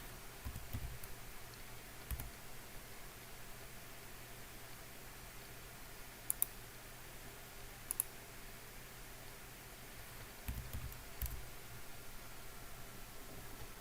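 Computer mouse button clicking while selecting rows and columns in a spreadsheet: a few sparse, quiet, sharp clicks spread out over a faint steady background hiss, with no talking.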